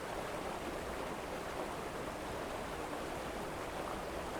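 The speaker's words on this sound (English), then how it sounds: "Sound of the river drowned it out, I guess." Steady broadband rush of a river flowing in the video game Rosewater, a continuous even wash of water with no breaks, heard alone without voices.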